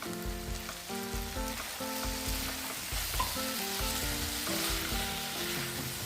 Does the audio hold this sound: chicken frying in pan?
yes